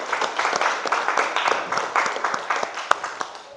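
Students in a biology class applaud, a fairly close burst of uneven hand claps with distinct individual claps throughout, dwindling toward the end, no talk over it.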